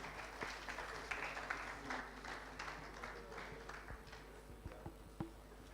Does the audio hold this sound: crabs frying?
no